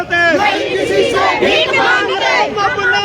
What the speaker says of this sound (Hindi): तो आप लगातार यहाँ पर देख रहे हैं कि भीड़ है काफी।